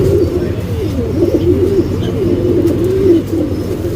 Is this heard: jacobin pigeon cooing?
yes